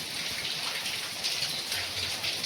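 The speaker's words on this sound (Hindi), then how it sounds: "एकदम झड़ी वर्षा लगी रही" Heavy monsoon rain pours down in a dense, steady hiss of drops hitting surfaces around a village home, unbroken from start to finish.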